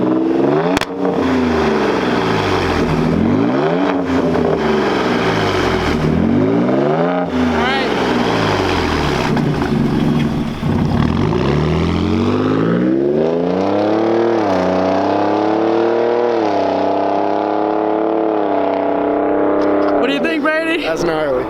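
Ford Raptor with a Borla ATAK aftermarket exhaust revving loudly up close, several rising and falling throttle sweeps and then a long sustained high rev before dropping back, with a voice briefly near the end.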